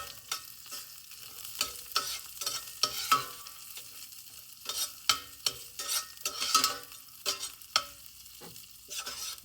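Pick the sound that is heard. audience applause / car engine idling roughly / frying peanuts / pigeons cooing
frying peanuts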